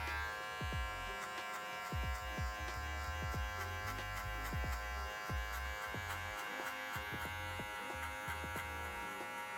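Electric hair clippers fitted with a 1.5 guard buzz steadily while cutting hair for a low taper, with repeated short brushing strokes and clicks over the close, continuous motor hum; no one speaks.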